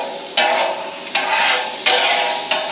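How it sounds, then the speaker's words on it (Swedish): Mackerel sizzling loudly on a hot griddle, with a few sharp bursts as pieces are moved or turned, steady frying crackle between them. "De här går väldigt fort att steka nu."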